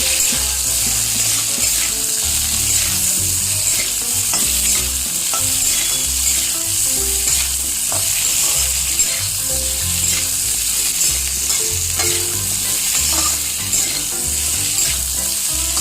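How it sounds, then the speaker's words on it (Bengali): Pumpkin pieces frying and being stirred in a pan while a homestyle fish curry with vegetables is cooked, giving a loud, steady sizzle broken by irregular scraping stir strokes with no voices. "এর মধ্যে এবার দিয়ে দেবো কুমড়ো। দিয়ে আবার একটু নেড়ে চেড়ে নেবো।"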